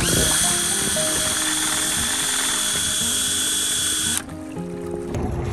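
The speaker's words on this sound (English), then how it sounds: "that's the drill motor there" A steady, loud electric drill motor whine with a high buzzing tone runs continuously, then drops in pitch and intensity near the end before picking up slightly again, powering a homemade electric jon boat on a river.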